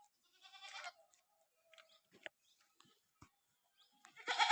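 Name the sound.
Beetal and Osmanabadi goats bleating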